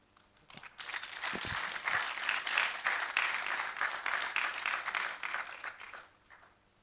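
Conference audience applause in a hall, swelling quickly from a few claps into steady, moderately loud clapping that holds for several seconds before tapering off.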